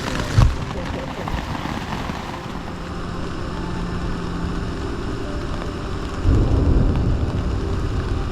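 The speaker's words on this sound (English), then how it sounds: "Well, the rain's back and the thunder's here." Rain falls steadily on a tent at night during a camping stop on a mountain hiking trail, with low rumbles of thunder swelling near the start and again toward the end, fairly loud and continuous.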